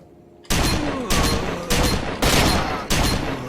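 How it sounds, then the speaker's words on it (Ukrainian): Loud, heavy gunfire from a weapon in S.T.A.L.K.E.R.: Shadow of Chernobyl in several rapid booming bursts, one after another at a steady pace, close and punchy. "Він дуже швидко стріляє."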